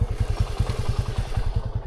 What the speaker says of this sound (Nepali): ऊ चाहिँ उता बाइक फर्काएर आउँछ